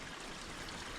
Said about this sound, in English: You got like water coming through the little underground there.